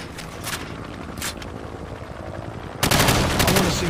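Automatic gunfire from the hip in Call of Duty 4: Modern Warfare on Xbox One, dense rapid bursts that are loud and continuous, growing heavier and fuller near the end, with no talking.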